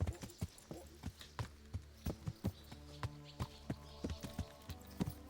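Horse hooves clip-clop in a video game, a steady, fairly quick run of sharp hoof beats at close range, continuing alone throughout.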